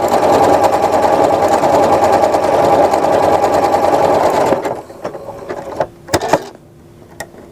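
A home sewing machine runs a decorative star stitch pattern with a steady, loud mechanical whir for about four and a half seconds, then stops, leaving a few faint clicks and handling noises.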